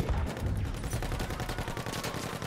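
Rapid, loud machine gun fire in Battlefield 1 rattles in a continuous stream of close, evenly spaced shots with a heavy low thump under each burst and no voices.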